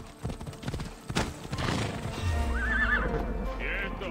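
A horse in the video game Assassin's Creed Odyssey gives a loud, wavering neigh, preceded by a patter of clip-clopping hooves. A low rumble rises underneath as the whinny peaks, and a voice is heard faintly in the mix.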